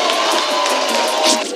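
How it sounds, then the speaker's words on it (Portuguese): A school crowd cheers and shouts for a teacher, a loud, close mass of voices with a rising cheer near the end and no distinct clapping. "Palmas para o professor!"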